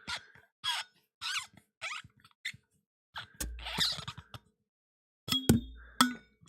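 Squeaky drinking-cup lid creaking in several short bursts, interspersed with faint clinks and scrapes, close and fairly quiet with no talk.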